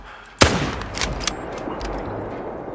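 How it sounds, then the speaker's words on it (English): Rifle fire during a wildebeest hunt in the video game Call of the Wild: one sharp, loud report followed by a rolling echo, then a few fainter pops as it fades. "And we both got the shot."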